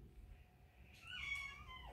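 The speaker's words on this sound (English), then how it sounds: "Why are you meowing at me?" A house cat gives one drawn-out meow, rising and then falling, heard nearby indoors against quiet room noise.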